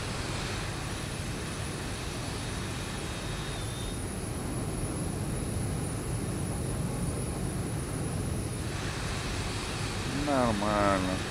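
Airliner engine spooling up at LaGuardia Airport, a loud steady roar and whine heard from close by inside the cabin, with a voice speaking near the end.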